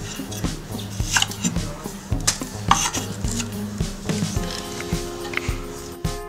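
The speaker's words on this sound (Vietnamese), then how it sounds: "Bây giờ mình sẽ cắt ớt nha." A knife chops long-cut chili peppers on a board in a Vietnamese home kitchen, a series of close, sharp, irregular knocks with light clatter of utensils and a faint background hum.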